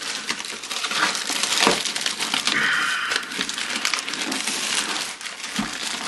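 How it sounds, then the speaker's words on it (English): Recycled paper packaging is unwrapped close by with continuous rough crinkling, crumpling and tearing rustles, loud and busy throughout. "what I've got here, well, a bit of recycled packaging."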